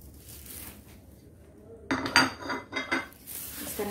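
Pomfret fish in a dish being mixed with masala, ginger-garlic paste and lemon juice: a quiet start, then a run of close, bright clinks and scrapes of a utensil against the dish in irregular bursts, with no talking.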